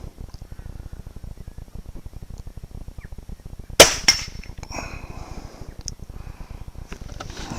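A rifle shot fired at a target 50 yards away on an overcast day, one sharp crack followed by a second quieter report, set against a constant low mechanical hum.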